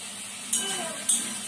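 Ground spices (coriander, cumin and red chilli powder) sauté in a pan with a steady, soft hissing sizzle, broken by two short scraping bursts as they are stirred.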